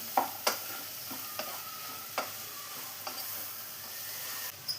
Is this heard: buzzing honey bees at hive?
no